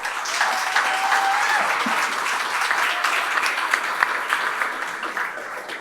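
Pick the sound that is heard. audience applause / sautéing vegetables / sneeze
audience applause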